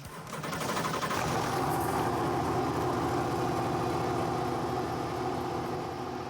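A Corvette engine turns over and settles into a steady, loud idle with a constant low rumble and rapid mechanical ticking, no voices.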